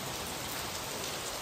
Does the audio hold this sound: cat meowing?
no